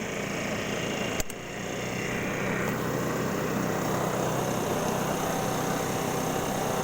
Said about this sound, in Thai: ผมเร่งเครื่องนิดนึงนะครับ